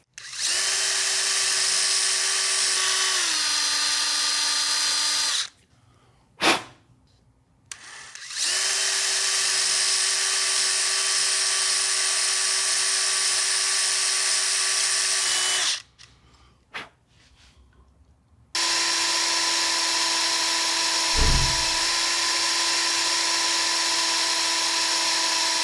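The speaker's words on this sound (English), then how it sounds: "The kit neck is solid wood. That's easier to drill through." A power drill boring through the solid wood neck of a guitar kit during a headstock repair: long, steady, loud whining runs separated by brief pauses, with a small knock in one gap.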